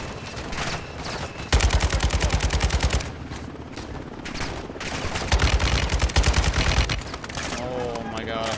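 Rapid automatic gunfire in the Modern Warfare 2 campaign, loud and close, with sustained bursts and steady battle noise throughout, plus voices talking over the shooting.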